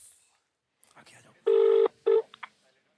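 A phone on loudspeaker plays dialing tones, two long steady beeps followed by short blips, with a voice speaking briefly just before them at a comedy show.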